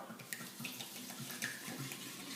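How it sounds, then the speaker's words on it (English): A thin stream of tequila pours steadily into a glass jar, with a soft continuous trickle and a few light splashes, quiet and close. "just pour it in the jar"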